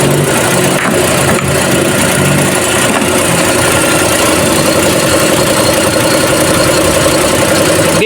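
A Toyota Vios Dual VVT-i engine idles steadily while warming up after its battery was disconnected, a loud and continuous mechanical hum with a faint ticking knock that never changes pace. No one speaks.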